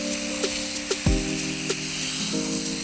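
Chicken curry frying in oil and butter in a pan while being stirred, a soft steady sizzle with a few light scrapes, heard beneath sustained music tones and a low swooping note.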